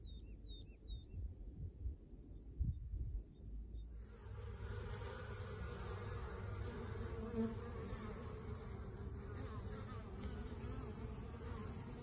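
Honey bees busy at a hive in spring while crocuses bloom, collecting pollen; a dense, steady buzz fills the scene, with a few bird chirps near the start before the hum rises and holds.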